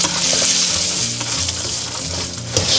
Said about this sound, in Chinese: 我们倒入少许油，然后把花生米放上去，然后保持小火炒。